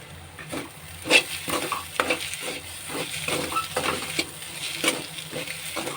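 Eggs sauté in a pan with a soft, steady sizzle, while a spoon scrapes and stirs through them at a repeated, uneven rhythm, close and at moderate volume.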